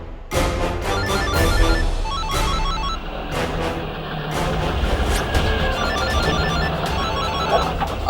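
A phone rings loudly and repeatedly, its electronic tone cutting through a busy, clattering background.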